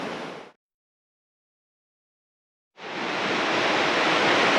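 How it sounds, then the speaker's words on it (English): A river flows in a steady, full rushing wash. It is heard briefly, cuts to silence for about two seconds, then returns continuous and slightly louder. "Listening to the sound of that river all night just puts me right to sleep."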